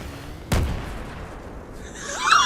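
A rocket blast in Battlefield 3 sends a bike flying: one sudden booming explosion with a decaying rumble, followed by a rising whine or screech near the end.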